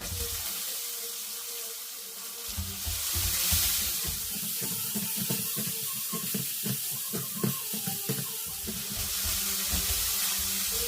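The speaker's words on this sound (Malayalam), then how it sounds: "അതിനുശേഷം നമ്മൾ അരിഞ്ഞു വെച്ചിട്ടുള്ള സവോള ഇതിലേക്ക് ഇട്ട് കൊടുത്തിട്ട് നല്ല ഗോൾഡൻ ബ്രൗൺ ആവുന്നത് വരെ വഴറ്റിയെടുക്കുക" Chopped onions sauté in coconut oil for a North Indian chana masala, giving a steady close sizzle with scattered stirring scrapes and clicks throughout. No one speaks.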